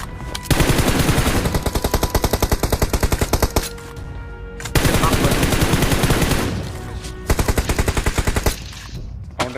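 Rapid machine-gun bursts fire in a shooting video game, three long loud stuttering volleys separated by brief pauses, close and dominant.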